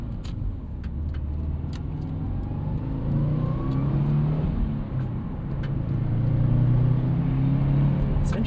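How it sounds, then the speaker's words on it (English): Turbocharged boxer engine of a 2014 Subaru WRX hatchback with a 5-speed manual, heard from inside the car as a steady mid-pitched drone that climbs in revs during the second half, loud and continuous with no talking. "This engine is pretty eager to rev."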